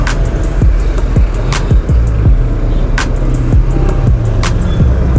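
Dense, loud traffic on a congested Dhaka flyover, with steady engine rumble, repeated passing-vehicle whooshes and scattered sharp noises from nearby cars and motorbikes, heard up close with no talk.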